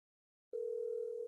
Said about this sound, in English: Phone's ringing. Can you hear it?